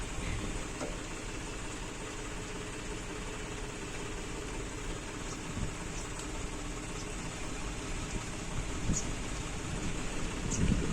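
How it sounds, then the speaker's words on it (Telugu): Rain falls steadily during JCB loading, a constant dense patter over a low engine idle, with a few louder knocks and rattles toward the end. "వర్షం వస్తుంది."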